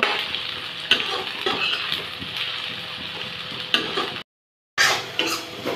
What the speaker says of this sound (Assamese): পিয়াজখিনি আপোনালোকে গোল্ডেন ব্ৰাউন হোৱালৈ ভাজি থাকিব লাগিব